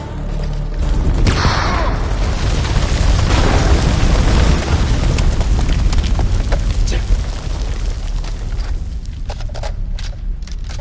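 A grenade explodes in the war horror game House of Ashes, a loud, sustained boom with a long rumbling roar that slowly decays over several seconds, with no talking.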